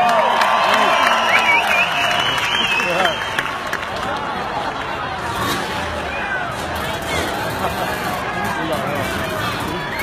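A large stadium crowd at the Australian X Open in Sydney's Cudos Stadium roars and cheers for motocross champion Ricky Carmichael, a dense, loud, continuous wash of voices and applause that swells early, then settles into a steady din.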